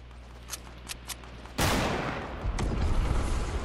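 Fortnite gunfire from a squad battle on PS4: faint scattered shots for the first second and a half, then a loud sustained burst of rapid fire and explosive blasts that keeps going to the end.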